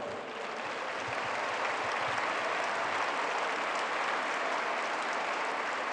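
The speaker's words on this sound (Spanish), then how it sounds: "Sí, aplaudimos al doctor" Sustained applause from a conference audience at an international education congress, a steady dense wash of clapping filling the hall for the full stretch, loud and continuous with no voices over it.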